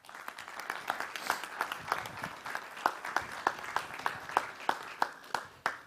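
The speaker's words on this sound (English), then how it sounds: "Give them a round of applause as they make their way up." An audience at a property summit claps and applauds while panellists walk up to the stage. The clapping is steady and moderately distant, with sharper individual claps standing out near the end.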